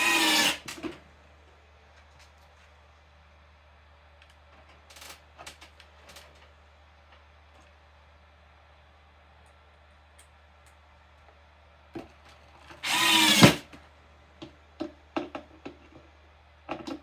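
Screws, #8 by 1/2 inch, are driven into a homemade wooden box. Most of the stretch is quiet, broken by short clicks and taps, with brief loud power-driver whirs at the very start and again near the end.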